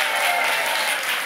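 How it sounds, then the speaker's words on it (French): A French television talk-show studio audience bursts into brief, dense applause, loud and close, with many hands clapping at once for just over a second. "Merci d'applaudir"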